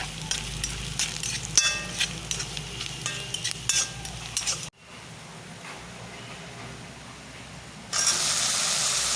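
A spoon stirs jackfruit seeds with turmeric in a frying pan, giving irregular scraping and clinking knocks over a soft sizzle for several seconds, then a quieter stretch before a steady, louder hiss of frying takes over.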